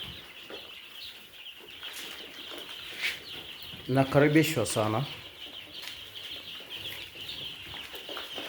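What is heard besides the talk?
young chicks cheeping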